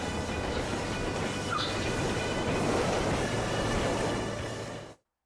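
A moving train makes a steady, loud rumble with rattling rhythm and a hiss throughout, then the sound cuts off abruptly near the end.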